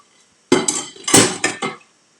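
A Spanish omelette slides back into a pan with a clatter of pan and utensils, a few close, clustered knocks and scrapes over about a second and a half, loud and without talk.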